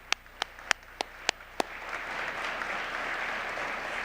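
An audience at an arts and humanities awards event applauds public officials, starting with six separate, evenly spaced claps that swell into sustained crowd applause.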